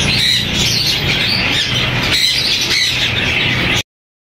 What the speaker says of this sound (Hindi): माशाल्लाह से येलो रिंग नेक का एक पेयर है